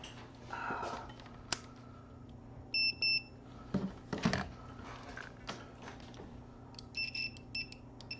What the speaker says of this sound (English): let's beep them out and actually make sure